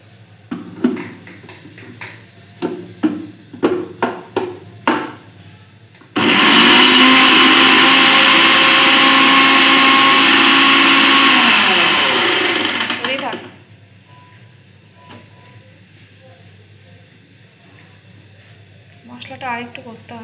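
Mixer grinder whirring loudly and steadily for about seven seconds as it grinds ginger, garlic and chili into paste, preceded by clattering knocks and followed by quieter handling sounds.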